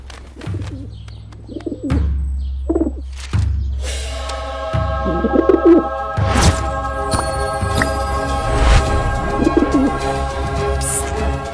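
A pigeon coos several times in a classroom, low throaty calls repeating every second or so, with soft thumps and clatter at the start and a busier background of room noise and faint chirps building later.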